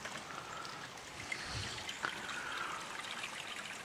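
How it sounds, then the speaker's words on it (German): Water from a pond trickles away into a karst sinkhole in a gypsum massif, a faint, steady outdoor dribble with a couple of small splashes. "An dieser Stelle verschwindet das Wasser aus dem Ittelteich."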